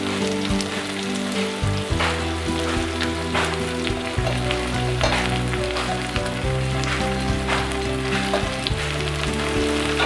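Spice mix frying in hot oil for Kerala-style potato mappas crackles and sizzles loudly and continuously up close, a dense spitting hiss with bursts of popping and occasional stirring.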